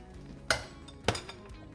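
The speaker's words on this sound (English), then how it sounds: "now we're gonna keep whisking it until it's done" A whisk works a soft pudding mixture in a pot on the stovetop, giving two clear metallic clinks against the pot's side over low, muffled stirring, with no talking.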